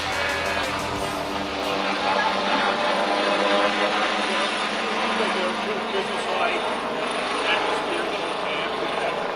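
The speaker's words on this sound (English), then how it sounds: "What, are airplanes flying?" Aircraft roar overhead in a continuous, loud, broadband drone that swells slightly over several seconds, with people talking underneath.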